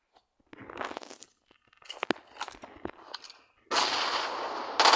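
Bomb explosions in a video game, scattered dull booms and crunchy blasts followed by a sustained loud roaring burst near the end, no talk over them.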